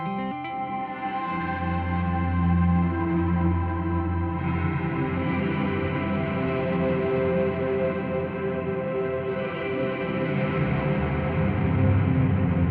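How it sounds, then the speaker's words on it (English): Walrus Audio Qi Etherealizer guitar pedal with its reverb pushed to maximum, giving a dense, washed-out sustained guitar drone that swells and smears continuously with no talking. "It'll max out the reverb."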